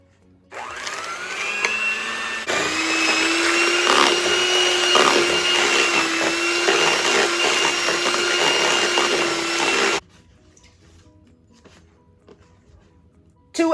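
An electric mixer runs at medium speed through cream cheese and pureed sweet potatoes, a steady loud whir with a constant hum from about half a second to ten seconds, then stops abruptly, leaving near silence.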